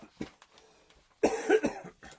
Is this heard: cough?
yes